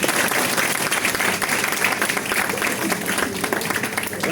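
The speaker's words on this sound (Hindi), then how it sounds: "जोरदार ताली" Loud, sustained applause from an audience at a legal bar council gathering, dense steady clapping filling the whole stretch without a break.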